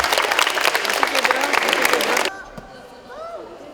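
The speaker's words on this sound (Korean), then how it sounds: "연경의 시범에 터져나오는 박수" Young volleyball players and onlookers clap loudly and densely after a spike demonstration, and the applause cuts off abruptly partway through, leaving quieter room sound and a voice.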